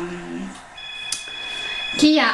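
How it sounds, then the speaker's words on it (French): A mobile phone rings indoors with short electronic tones and beeps, fairly faint beneath room noise and brief low voice sounds. "Donc là, il y a mon téléphone qui sonne."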